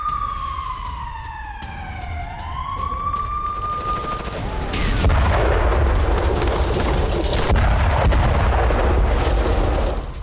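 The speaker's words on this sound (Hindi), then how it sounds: "खेरसौन से जंग का विस्फोटक वीडियो आ गया। आर्टिलरी से रूस का चौतरफा हमला हुआ है।" Russian artillery fire and explosions during the war in Kherson: a descending whistling tone fades out, then heavy, continuous rumbling blasts take over, loud and sustained to the end.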